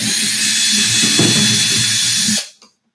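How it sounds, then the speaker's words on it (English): A power drill drilling a hole through an acoustic guitar whirs with a loud, steady, hissing grind, then cuts off abruptly. A faint knock follows the stop. "I'm going to drill a hole so that I can feed the lead through"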